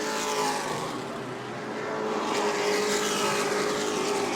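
Pro Late Model race cars lapping New Smyrna Speedway in a Hoosier Series feature, a dense continuous roar of engines rising and passing at distance, with no break in the racing noise.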